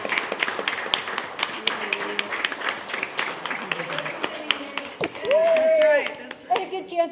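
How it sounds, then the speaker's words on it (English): An audience at a school board meeting claps for staff, a scattered patter of hands mixed with people talking nearby. "So come on, guys. Stand up, get a round of applause."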